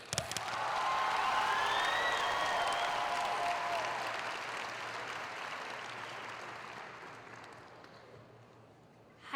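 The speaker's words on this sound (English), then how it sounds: "may we please have another round of applause for the class of" Sustained applause from a large crowd at a high school graduation ceremony for the class of 2026, swelling quickly, holding steady and loud, then slowly tapering off, with faint cheering woven through.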